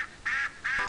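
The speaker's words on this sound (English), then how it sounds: "So I get what sound ducks make on my phone." Duck quacks played back through a phone speaker: two quick nasal quacks, loud and close, followed by the start of a third at the end.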